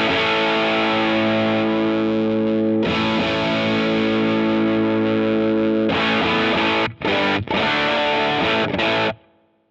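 Electric guitar played through a Crowther Hot Cake overdrive pedal, giving loud, sustained distorted chords that ring out, pause briefly, then return with choppy stops before cutting off near the end.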